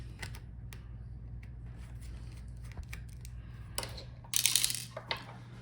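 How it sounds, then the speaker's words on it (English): Screws being removed from the motherboard of a Dell Inspiron 7591 laptop, scattered small metallic clicks and ticks over a low hum, ending in a brief louder rattle, close up with no talk. "Now let's take out the remaining screws from the motherboard."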